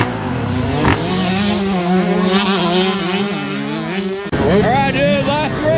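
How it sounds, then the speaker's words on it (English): Retro 1990s dirt bikes racing, their engines screaming close by in a sustained high-revving whine that shifts pitch as they battle, with a sharp gear change near the end. "Watch these retro 90 bikes. They're battling out."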